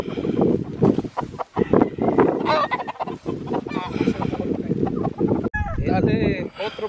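Roosters raised for cockfighting cluck and crow in a dense, continuous flock chorus, loud and close, with someone talking over the birds throughout.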